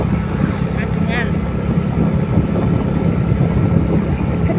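A motorcycle engine drones and vibrates continuously while the bike is ridden, a loud, close, steady rumble mixed with wind noise and a few faint higher chirps.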